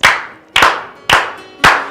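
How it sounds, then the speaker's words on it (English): Four sharp, loud claps in a slow, even rhythm, each about half a second apart, with no other sound around them. "Can we slow clap this beautiful queen out?"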